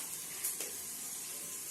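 Onions sautéing in ghee for chicken biryani make a soft, continuous frying hiss, fairly quiet and steady, with a faint brief swell early on and no speech.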